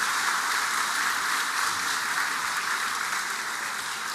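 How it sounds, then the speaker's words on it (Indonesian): A Sunday church service congregation applauding, a steady wash of many hands clapping throughout, fairly soft and even. "Beta ajak semua tepuk tangan banyak-banyak."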